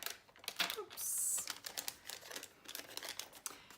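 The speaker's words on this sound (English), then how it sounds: "So we'll open this envelope." A paper envelope torn and pulled open up close, quick crinkly rips and a brief hissing tear followed by soft rustling and handling, fairly quiet, with no talking.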